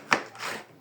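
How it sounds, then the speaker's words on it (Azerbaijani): A single sharp knife chop through a pepper on a cutting board, cut lengthwise, followed by a soft slicing scrape as the blade moves through. "Uzununa doğrayırıq."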